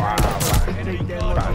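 Rapid pistol gunfire in a video game, a quick cluster of sharp loud shots over the first half second followed by further muffled shooting and game noise.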